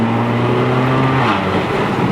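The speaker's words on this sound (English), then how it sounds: "But fun so far, guys, driving this car." Stage 3 tuned Mercedes CLA45 AMG driven on twisty roads, its engine droning loudly and continuously from inside the car, with steady road and wind roar underneath.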